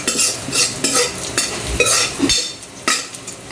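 Leftover fried rice stirred in a pan after hotdogs were cooked, with a utensil scraping and knocking against the metal in repeated uneven strokes, close and fairly loud, and a faint sizzle beneath.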